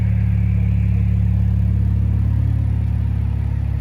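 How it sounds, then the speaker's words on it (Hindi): A 2010 Mercedes-Benz SLK 200 Kompressor (R171, M271 engine) opens its electro-hydraulic retractable hard-top Vario roof. A loud, steady mechanical hum and low whirring rumble continue without a break, with no one speaking. "रूफ ओपन करके देखते हैं।"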